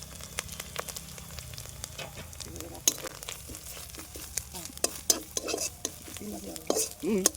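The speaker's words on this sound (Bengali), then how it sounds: "নারকেল গুঁড়োটা দিয়ে দিলাম গরম তেলের মধ্যে পুরোটা দিইনি হাফ মতো দিলাম এটাকে এখন একটু ভেজে নেবো" Grated coconut powder frying in hot oil while a daab chingri dish is prepared, with a soft steady sizzle and scraping stirs and clinks, under a voice speaking.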